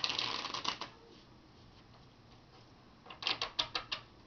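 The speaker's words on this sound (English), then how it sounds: "I'm going to shuffle up the deck" A deck of playing cards is shuffled by hand for a card trick: one quick riffle burst, a quiet pause, then a second run of crisp ruffling flicks, close and alone.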